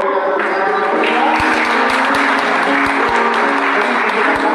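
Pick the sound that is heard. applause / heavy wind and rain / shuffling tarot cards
applause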